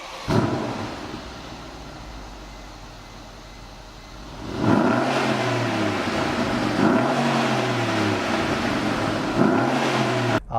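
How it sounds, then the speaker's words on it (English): A 2012 Mercedes-Benz CLS 63 AMG engine idles, then revs up in three rising bursts that fall back each time, heard from outside at close range with no talk. "give you a quick rev so you can see what it sounds like from the exterior"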